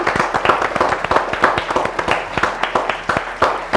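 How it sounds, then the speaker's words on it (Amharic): An audience claps steadily through the whole stretch, a brisk run of sharp hand claps at close range, alone with no voices over it. "በዚህ ጭብጨባ ብቻ እንዴ"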